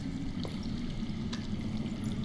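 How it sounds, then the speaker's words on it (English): Running water from underground, a steady muffled pouring and trickling wash heard faintly as if from below, continuous and even throughout the short stretch with no voices. "That's water. I hear water. From underground."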